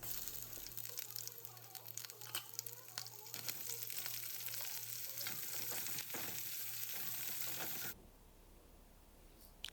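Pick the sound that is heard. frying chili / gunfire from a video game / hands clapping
frying chili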